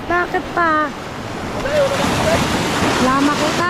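Ocean waves break on a shore in a continuous, washing surf roar while people talk loudly close by.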